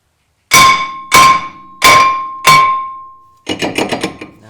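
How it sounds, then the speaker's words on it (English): Four heavy metallic whacks strike a brake rotor on a 1999 Jeep WJ, each ringing out with a sustained clang, followed by a quicker burst of lighter rattling taps as the rotor works loose. "I'm just going to give it a good whack to loosen it up here"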